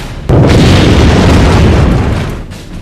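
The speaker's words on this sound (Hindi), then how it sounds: "न्यूक्लियर बम के चलते एक बड़ा धमाका होता है।" A massive, deep nuclear bomb explosion sound effect booms suddenly and rumbles on for a couple of seconds before slowly fading, loud and overwhelming.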